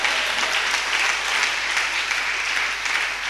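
An evangelical church congregation gathered for a combined worship service claps loudly and continuously, a full, dense roar of many hands filling the room without any voice on top.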